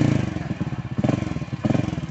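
A motorcycle engine runs close by in a village setting, with a steady, throbbing low chug and rhythmic pulsing that swells slightly twice over about two seconds.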